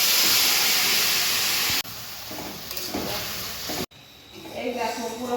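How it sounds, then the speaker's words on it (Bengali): Spices dropped into hot oil for a mushroom curry, a loud steady sizzle and hiss that drops in level as the pan settles, with someone talking over it. "তেল গরম হয়ে গেল। এই যে দিয়ে দিলাম ফোড়নে"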